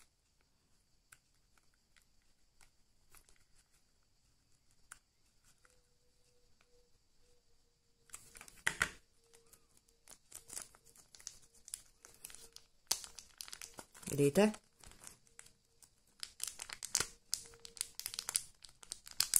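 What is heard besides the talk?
plastic bag crinkling while being resealed with a bag sealer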